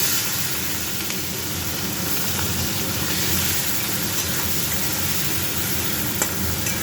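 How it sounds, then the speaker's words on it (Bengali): Prawns fry in hot oil with a loud, continuous close-up sizzle that holds evenly throughout, broken by a few faint crackles. "চিংড়িগুলো আগে ভেজে নেব।"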